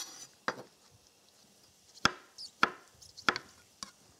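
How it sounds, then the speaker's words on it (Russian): A knife chops beetroot into small cubes on a cutting board, sharp distinct strikes, about six irregularly spaced, close and clear in a quiet kitchen. "Свеклу мне нужно будет нарезать небольшими кубиками."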